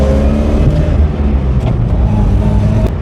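A 1983 Mazda RX-7 rotary engine runs loud and close, a dense steady drone with slight swells in pitch, as if being driven on the road.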